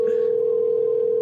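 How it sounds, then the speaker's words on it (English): A phone in the horror video game Cemetery Mary rings out to an unknown number as one loud, steady electronic tone that holds without a break. "Phone rang for a few times, but no one picked up."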